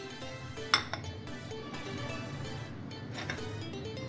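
A lid comes off a bowl of bread pudding with a sharp clink, followed by a few lighter clinks of dishes against a low kitchen background, close and fairly quiet.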